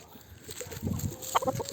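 A backyard rooster calls his hen over to food, giving a short run of soft, quick clucks up close in a coop, with a slightly sharper note near the end.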